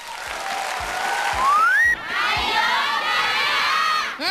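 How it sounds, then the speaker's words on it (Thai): Fans of Thai actors gather at a Channel 3 anniversary event, a large crowd cheering and shouting continuously, with high-pitched screams and loud rising calls that stay close and steady. "ตะโกนว่าไอเลิฟยายา ก็ต้องเป็นแฟนคลับ ยายา"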